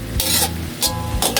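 Food being stirred in a frying pan during a home-style cooking session, with three bursts of scraping and sizzling at steady intervals over a low background hum, close and fairly loud.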